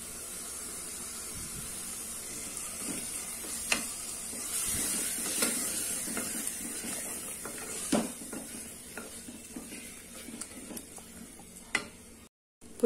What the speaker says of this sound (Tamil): இப்போ நம்ம அந்த அரைச்ச வெங்காயம் தக்காளி பேஸ்ட் போட்டுடலாம்.